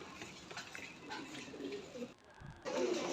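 German Beauty pigeons cooing, soft low coos with a few faint chirps, quiet and close, set against light room noise and a brief clatter near the end.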